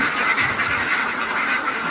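Ducks at a rural duck farm in Bhairab quack as a dense, continuous flock chatter throughout, fairly loud and close, with no talking.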